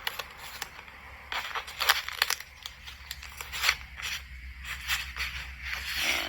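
Strip of tape torn by hand for a kids' Easter painting craft, a series of sharp ripping and crinkling bursts close up, no talking.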